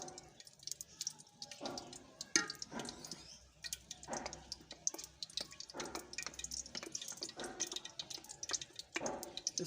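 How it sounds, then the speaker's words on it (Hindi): Ghee poured from a small cup into a cooking pot in a village kitchen, giving soft trickling, dripping liquid sounds with faint clinks, fairly close and alone. "ये प्याली घ्यो इसमें डालेंगे।"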